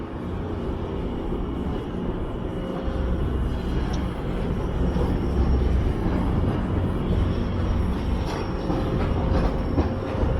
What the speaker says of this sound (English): I think I hear a train passing under the bridge.